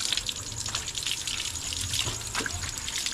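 Water runs steadily over a motorcycle being washed, a continuous close splashing and trickling stream with no pauses.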